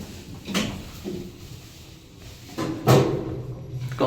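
Doors of a 2006 Dewhurst 2,000 kg passenger lift in Cambridge city centre sliding shut after the close button is pressed, with a soft thud near 0.5 s, a rumbling slide and a louder clunk of closure around 2.9 s, heard close up with no talking.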